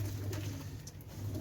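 Pigeons coo in a low, steady murmur, a flock of racing pigeons close by at bath time, their throaty calls overlapping continuously with no talk.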